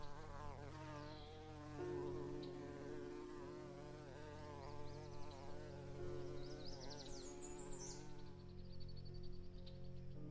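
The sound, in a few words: wasp flying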